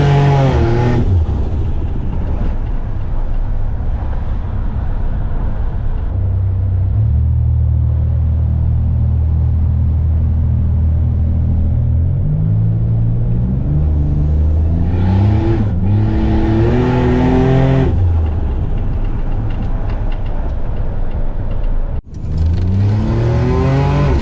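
A car engine runs loud and close, idling low, then revving upward in several rising sweeps with brief drops between them, alone with no voices.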